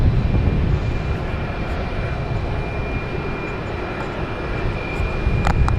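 A JetBlue Airbus A220 airliner at Boston Logan Airport on a hazy day, a steady broad engine roar that holds loud and constant throughout.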